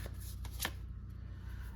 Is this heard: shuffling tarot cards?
yes